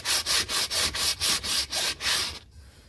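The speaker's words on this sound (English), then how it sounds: "you're just sanding like out little bumps" Steady back-and-forth sanding of bumps on a chunky-glitter tumbler coated in Crystalac, about nine rhythmic gritty strokes, loud and close, then it stops.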